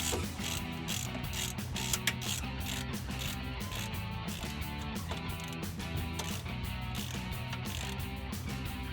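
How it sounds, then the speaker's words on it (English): Ratchet tightening an 11mm intake bolt on a 1994-1998 Mustang V6 using a long extension, a steady run of fast, even clicks close up with no pauses. "we're going to tighten down this nut, or this bolt."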